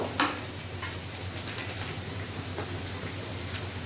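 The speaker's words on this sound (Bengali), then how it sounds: "এই পেঁয়াজটা আমি ফ্রাই করব" Onions frying in oil for chicken biryani give a soft, steady sizzle with a few small pops and crackles, close by and fairly quiet, with no voices.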